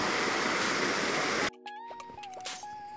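A waterfall in a Thai forest gives off a loud, steady, close rushing roar for about a second and a half, then cuts abruptly to quieter ambience with faint tonal sounds.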